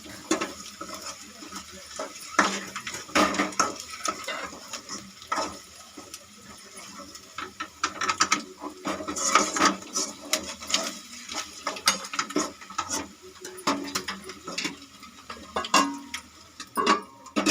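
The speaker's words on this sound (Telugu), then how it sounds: "బాగా కలుపుకోండి, జాగ్రత్తగా ఎగ్ అనేది విడిపోకుండా కలుపుకోండి" Boiled eggs being stirred and fried in a pan, a spoon clicking and scraping against the metal in irregular taps over a soft sizzle, close and moderately quiet.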